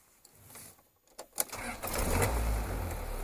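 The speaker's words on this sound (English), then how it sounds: "So I wanted to turn the engine on" A 3.9-litre Isuzu diesel engine in a Land Rover Defender starts up in freezing -5 °C weather, with a few clicks and a cranking catch before it settles into a steady, loud rumbling idle.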